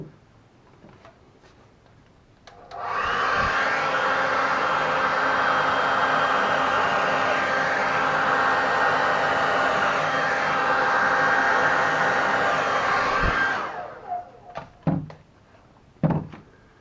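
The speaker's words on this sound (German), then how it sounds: "ich soll den Föhn wahrscheinlich auf kalt stellen" A hair dryer on a warm setting blows onto acrylic paint thinned with alcohol, a steady close whooshing rush that runs for about ten seconds before cutting off, followed by a few small knocks.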